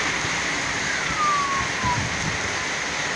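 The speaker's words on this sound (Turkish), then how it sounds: "İstanbul'da dolu ve yağmur. Karışık yağıyor." Dense, steady downpour of mixed hail and rain in Istanbul, with hard pattering, continuous and close, with no talk over it.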